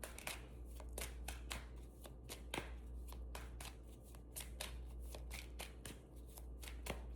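Tarot cards shuffled steadily by hand during a Gemini reading, a rapid run of crisp riffling snaps and flicks repeating through the whole stretch over a low steady hum, with no talking.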